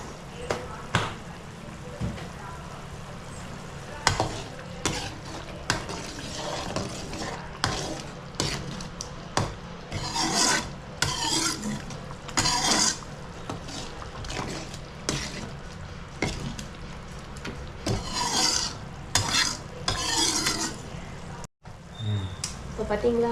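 Masala for crab gravy fries in oil and is stirred with a utensil that scrapes and knocks against the pot repeatedly, over a steady sizzle, with a voice talking faintly at times.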